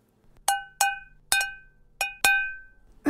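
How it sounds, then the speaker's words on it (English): Five sharp metallic strikes of a bottle opener on a kitchen pot, each ringing with a bright bell-like tone that decays, spaced irregularly, close and clear. "This is a bottle opener. And a pot from the kitchen."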